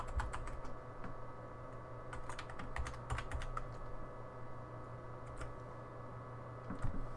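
Fingers tap a computer keyboard while entering a serial number, with irregular bursts of key clicks and brief pauses over a steady low hum.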